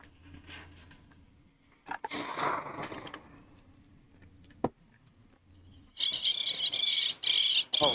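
Birds swooping at a drone give harsh squawking calls, a few scattered cries early, then a loud, close burst of repeated squawks toward the end over a low background hum.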